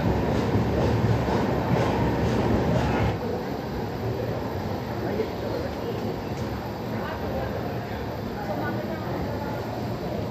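Barauni Ahmedabad Express rolling along at night, heard from inside a crowded sleeper coach: a steady, loud rumble of wheels and carriage noise that eases slightly partway through.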